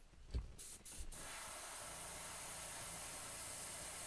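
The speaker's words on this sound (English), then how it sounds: "we'll probably go back and spray just a little dot of it on the back" A few short taps and bumps, then a continuous airy hiss of a paint spray nozzle painting a fishing lure, running steadily and quietly to the end.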